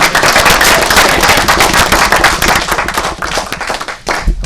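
A room full of people at a watershed advisory committee meeting claps in a dense, loud round of applause for a committee member, steady for about four seconds before tapering off.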